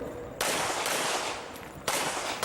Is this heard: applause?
no